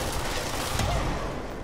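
Grenade launcher fire in the action game Control, heard as a dense, continuous burst of gunfire-like blasts with a sharper hit near the middle, loud and unbroken, with no talking.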